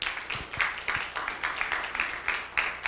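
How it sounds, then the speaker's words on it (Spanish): A church congregation claps together during a Spanish-language worship service, a steady crowd applause of many hands with rhythmic bursts, moderately close and continuing throughout without speech. "Dale un aplauso a Cristo Jesús."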